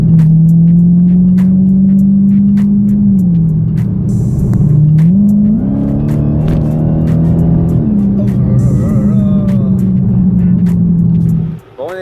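A 2016 Dodge Challenger Hellcat's V8 drones loud and close, steady engine note rising and falling with throttle changes, then cutting off abruptly near the end.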